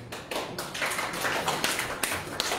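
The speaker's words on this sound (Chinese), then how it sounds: "给他一个掌声" Audience clapping at a teacher-led sharing session, fairly quiet and a little scattered, with individual claps standing out now and then in a small room.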